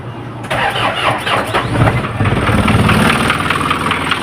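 An Isuzu 4HL1 diesel engine that has overheated and stalled cranks, catches and runs into a rough, clattering idle with a knocking beat, loud and close, with no talk over it.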